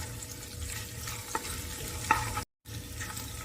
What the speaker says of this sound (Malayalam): എന്നിട്ട് ഇഞ്ചി ചതച്ചത്, പച്ചമുളക്, വേപ്പിൻ്റെ ഇല ചെറുതായിട്ട് അരിഞ്ഞതും കൂടെ, അതൊന്നും അത്ര വല്ലാണ്ട് മൂക്കണ്ട, ചെറുതായിട്ട് മൂക്കുക.